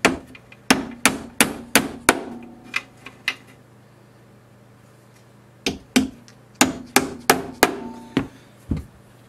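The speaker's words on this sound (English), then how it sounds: "Now we're just going to tap these down. Make sure these seat. And put a nail in them to hold them." Nails being hammered into a wooden bee brooder box: sharp, close hammer blows in quick bursts of several strikes, a pause, then another run of taps.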